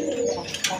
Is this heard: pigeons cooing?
yes